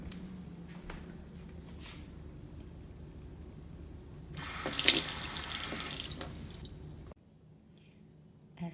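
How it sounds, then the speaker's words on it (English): Water poured onto a succulent in a terracotta clay pot splashes and trickles loudly for a couple of seconds, with faint dripping and draining before and after, close by and without talk. "after I water this succulents that is in a terracotta pots"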